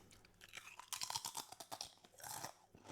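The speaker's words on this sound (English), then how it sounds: "They are some crunchy crisps." Hand-cooked crisps crunched up close in the mouth, a quick run of crisp, crackling bites and chews, loud against a quiet background with no talking.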